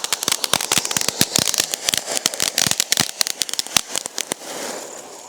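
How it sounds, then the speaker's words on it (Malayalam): Diwali firecrackers going off outdoors in a dense, rapid run of sharp crackling pops over about four seconds, then easing into a softer fizzing hiss. "ആദ്യം ഒരെണ്ണം കത്തിച്ച് നോക്കാം"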